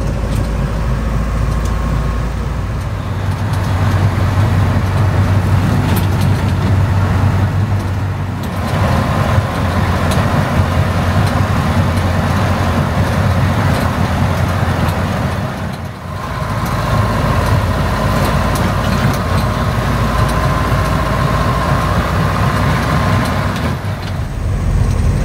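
Inside a moving medium-size Galaxy Coach bus of the ASLI line on the Purwokerto–Sidareja route, a steady low engine drone and road rumble fill the cabin, with occasional hiss and rattles as the bus drives on.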